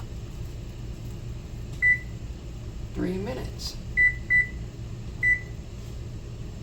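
Kitchen timer being set while cabbage blanches in a pot of rapidly boiling water, giving four short, clear electronic beeps spaced over several seconds amid low kitchen hum, with a voice speaking briefly in between.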